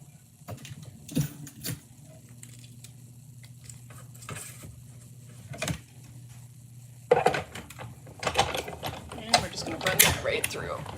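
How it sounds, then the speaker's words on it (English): A die cut machine cranks a taped paper panel through its rollers, giving a run of soft mechanical clicks and ratcheting with a low steady hum, growing busier and louder toward the end. "make sure it doesn't wiggle while I go through the die cut machine."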